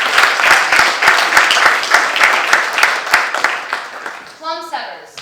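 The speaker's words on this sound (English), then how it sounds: "we still applaud his efforts" Audience applauding at a youth court graduation in Putnam County, New York, loud close clapping from many hands that tapers off over several seconds, ending as a voice begins to speak.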